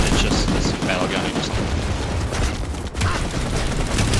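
Rapid bursts of automatic gunfire from a battle gun in a multiplayer shooter match, loud and dense across the whole stretch, with players talking over it.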